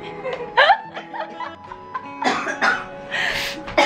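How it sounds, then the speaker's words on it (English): A woman has a coughing fit nearby, with several hacking coughs and throat-clearing bursts, some strained and laugh-like, running one after another with brief pauses. "My mom was having a cough attack."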